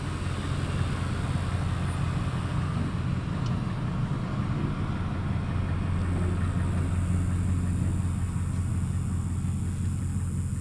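A vehicle drives back across a partly filled-in trench dug for a well's poly pipe water line and electric line, its engine a steady, loud, close rumble that holds throughout with no talk.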